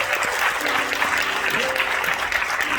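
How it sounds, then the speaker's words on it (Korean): An audience at an education and faith mission conference gives a short burst of thankful applause, close and steady throughout, with a faint tonal hum beneath the clapping. "감사의 박수, 또 경의의 박수 한번 드리겠습니다."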